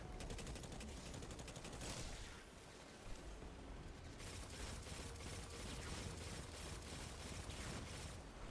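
Rapid gunfire in the video game Destiny during a Lost Sector on Nessus, dense continuous bursts of shots and mechanical clatter that hardly let up, with no speech.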